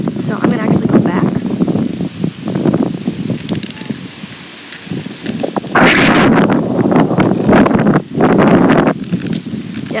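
Strong gusty wind blowing outdoors buffets the microphone in loud roaring bursts that surge and fade, strongest in the second half, with no one speaking.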